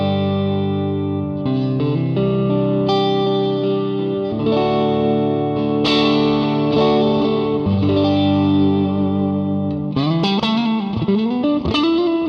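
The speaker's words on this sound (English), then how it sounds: "Okay, so that's a bass clean tone." Bass guitar through a clean Vox amp capture on a Quad Cortex: sustained, warm notes and slides that ring smoothly, with a busier run near the end, loud and close with no talking.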